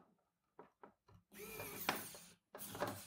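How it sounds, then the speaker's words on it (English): A screwdriver drives a screw into a thermoelectric 15L mini fridge during a Peltier replacement: a few short whirring bursts, then two longer, louder runs with a brief pause between, close up and without speech. "And we nicely screwing it down."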